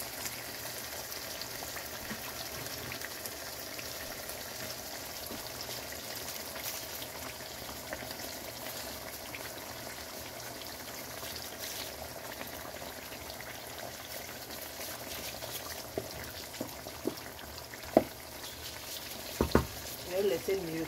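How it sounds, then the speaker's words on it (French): A pot of potato stew with stock simmers steadily, giving a soft, continuous bubbling hiss with occasional small pops and clinks near the end. "Je vais laisser mijoter pendant 3 à 4 minutes."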